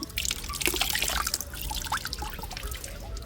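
Tobacco extract being squeezed out by hand, liquid dripping and trickling in irregular splashes and drops, close and fairly quiet, with no speech.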